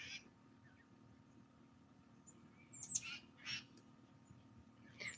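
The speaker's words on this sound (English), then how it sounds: "Listen to the birds." Faint birds chirp in short bursts against a quiet, steady background hiss, with a few brief high calls near the end.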